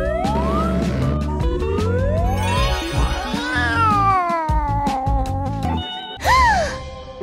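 A cat meows repeatedly in long, drawn-out cries that rise and fall over a busy, siren-like background, ending with one louder, sharper meow.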